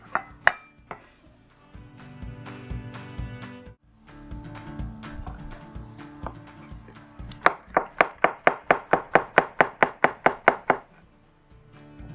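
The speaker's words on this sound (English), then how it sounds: "After we have done with roughly chop our garlic, we're gonna set it aside" A knife roughly chopping garlic on a cutting board while stir-fried squid with salt and chilli is being made. A few scattered, heavier cuts come first, then a fast, steady burst of loud, crisp chops close by, with no voices.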